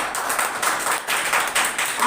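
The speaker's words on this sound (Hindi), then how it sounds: "ताली बजाओ बच्चे के।" A church congregation claps for a child, a short burst of scattered hand claps that rises and falls in quick rhythmic waves for about two seconds.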